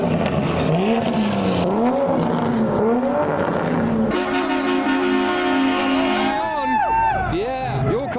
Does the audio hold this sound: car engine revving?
yes